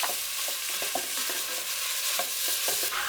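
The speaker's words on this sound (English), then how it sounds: "Now with a wooden spoon, you can stir that." Onions sizzle in olive oil as a wooden spoon stirs them in a pan, giving steady frying hiss with soft scraping strokes and light knocks at an irregular pace.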